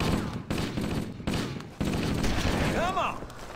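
Marines fire weapons in a Halo-based video game: dense, loud bursts of gunfire in rapid volleys, mixed with game sounds and voices in the background.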